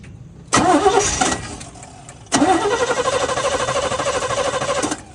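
A 1967 Chevrolet C10 truck engine cranking and briefly catching, then starting again and running with a loud, rough, pulsing idle and revving for several seconds before cutting off.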